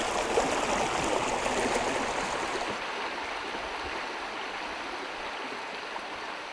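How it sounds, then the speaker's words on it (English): Thurston Brook babbles steadily along the Brontë Way moorland path, a continuous close, bright rush of running water that eases slightly after a few seconds, with no voices. "here's Thurston Brook babbling away"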